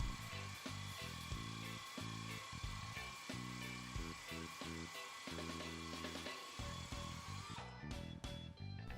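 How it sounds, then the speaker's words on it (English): A low-RPM air tool spins a soft wire brush to buff the inner liner of a truck tire, a steady continuous whir running throughout with a rough, gritty texture and a few brief pauses near the end. "Using a soft wire brush on a low RPM tool, lightly buff from the right side of the prepared surface to the left side."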